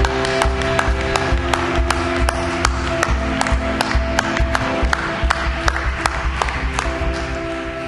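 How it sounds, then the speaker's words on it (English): Church congregation at a festive praise service clapping in a steady rhythmic beat over sustained music, with loud, even handclaps repeating throughout. "give Him a big round of applause, like a king deserves to be praised and worshiped"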